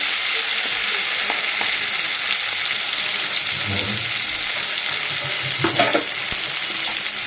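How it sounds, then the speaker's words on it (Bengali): Cardamom fries with potatoes in hot oil, a continuous loud sizzle with occasional stirring scrapes and small knocks, close by and without voices. "দেখো এলাচ দিয়ে দিলাম, আলুর সাথে ভাজা ভাজা হয়ে যাবে।"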